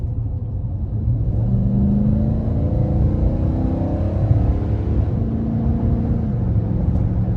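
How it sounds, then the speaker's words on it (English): A 2021 Nissan Titan Platinum Reserve pickup with a 9-speed transmission accelerates up an interstate on-ramp, its engine a steady low rumble rising in pitch inside the cab, with constant road noise and no talking. "So let's see how it does merging on the interstate here."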